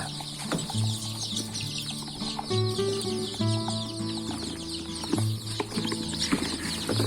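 Lots of three-day-old layer chicks peep in a busy, continuous high chatter over a steady mechanical hum, with a few low tones and knocks now and then as they are moved into a brooder box.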